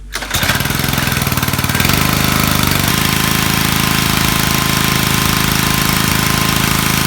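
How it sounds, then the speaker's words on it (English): Gas pressure washer starting up and running steadily close by while blasting grime off the hood of a 4th-generation Camaro, a loud continuous engine drone with a pulsing low rumble throughout. "I got the pressure washer here. I'm gonna fire this up and pressure wash all this grime off of this hood."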